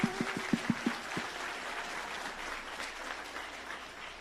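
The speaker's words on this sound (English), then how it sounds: "Y'all give everybody a hand of applause" Faint, distant applause from an audience cheering winners at a virtual career academy closing celebration, with a few sharper claps at the start settling into a soft, steady patter.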